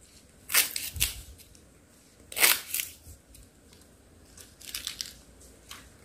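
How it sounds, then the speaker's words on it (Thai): A few sharp crunchy knife cuts through pounded lemongrass come in short bursts, close and quiet, with gaps of near-silence between them. "พอทุบแล้วเราก็หั่นนะคะหั่นเป็นท่อนนะคะ"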